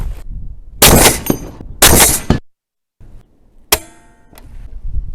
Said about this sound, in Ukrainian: Зараз ми зробимо ще три постріли